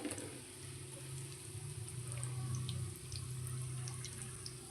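Bread pakoda fries in hot oil until golden, a faint, steady sizzle with scattered small crackles and a low hum underneath, no voices.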